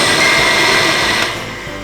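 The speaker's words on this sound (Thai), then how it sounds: "เครื่องเขาจะแบบว่าปั่นได้เกล็ดละเอียดอย่างนี้นะของเรา" A blender crushing ice whirs loudly and continuously, a harsh grinding motor noise that eases slightly toward the end.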